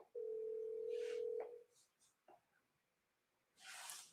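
A phone call starts with a steady single-pitch tone for about a second and a half. Short clicks follow, then a burst of hissy noise.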